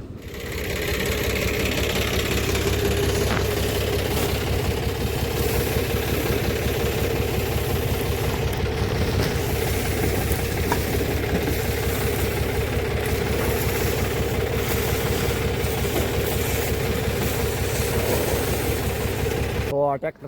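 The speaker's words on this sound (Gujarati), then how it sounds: "ટ્રેક્ટર જાય છે પાછો." A tractor engine runs steadily while sowing onions in a field, a loud, constant mid-pitched chugging drone with mechanical rattle from the seeding machine, continuous for the whole stretch.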